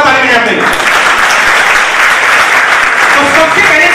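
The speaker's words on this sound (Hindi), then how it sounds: "एक बार जोरदार ताली बजाते हैं" A seated training-seminar audience bursts into loud, vigorous applause, a dense continuous roar of many clapping hands close and full throughout, with some voices mixed in.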